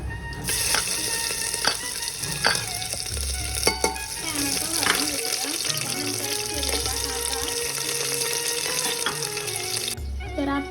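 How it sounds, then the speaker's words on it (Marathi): Whole spices and ginger garlic paste sizzle in hot oil, a loud close frying hiss broken by stirring scrapes and clinks, with running water in the background near the end. "आता आपलं तेल गरम झालेलं आहे त्यात आता आपण अख्खे मसाले घालून घेऊया"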